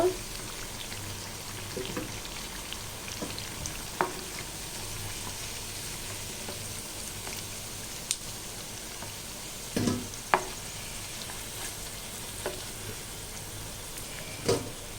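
Taro root vadas fry in hot oil, a steady soft sizzle with occasional sharp pops and clinks throughout, fairly quiet and continuous.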